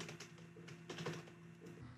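Quick keystrokes on a computer keyboard while entering text into an Excel spreadsheet, a light irregular patter of clicks at close range with no talking.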